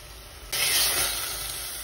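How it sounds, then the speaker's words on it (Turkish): Butter melting with ground meat in a hot pan, a steady hiss and sizzle that swells abruptly and then holds at a moderate level, close up and with no talking. "Tereyağımız erisin biraz da şöyle böyle. Tereyağımızı kavuralım."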